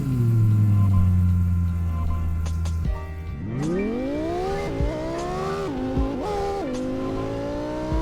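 A sports car engine in the video game Driving Empire idles loudly, then revs up through rising, whining gear pulls with brief shifts, a smooth, high-pitched racing sound.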